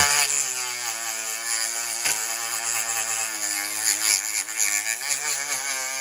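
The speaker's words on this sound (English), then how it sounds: "So let me go ahead and grind this." A handheld power grinder whines steadily against a part during an LS VTEC engine swap, a loud, high continuous tone that wavers in pitch as pressure changes, with one brief dip near the start and no talk.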